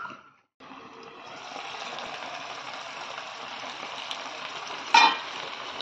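A Bengali fish curry simmers in a covered pan over low heat, giving a steady soft bubbling hiss that runs close and even throughout, with one brief louder clink near the end.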